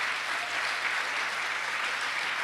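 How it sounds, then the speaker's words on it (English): Steady, dense applause from the audience at a public banking conference, sustained at an even level throughout with no voices standing out. "So a round of applause for San Francisco Supervisor John Avalos."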